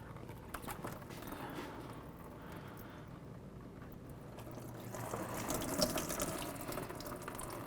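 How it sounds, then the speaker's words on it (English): Engine coolant drains from a removed lower radiator hose on a 2002-08 Dodge Ram into a recycling bucket, a steady splashing, trickling flow that swells louder toward the end, close by with no talking. "Remove the clamp, just be prepared because coolant will come down."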